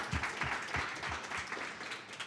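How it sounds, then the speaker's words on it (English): Meetup audience applauding the host sponsor at a product talk event, a brief, fairly quiet burst of clapping with a few distinct claps standing out near the start, fading over two seconds. "a round of applause for DigitalOcean"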